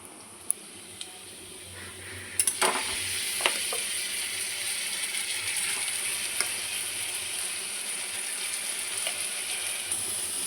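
Onions fry in a pan as a paste of ginger, garlic, onion and green chili goes in, giving a steady loud sizzle across the whole stretch with a few sharp metallic clinks from a spoon early on and no talk.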